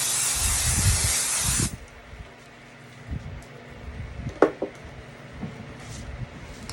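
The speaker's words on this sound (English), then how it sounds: "I am going to just spray it with some basting adhesive" A can of Spray and Bond basting adhesive hisses in a steady close burst onto a white neoprene lunch bag for under two seconds, followed by soft handling noises and light taps.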